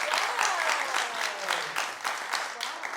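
A TV talk show studio audience claps in a steady wash of applause, moderately loud, with a voice speaking faintly underneath.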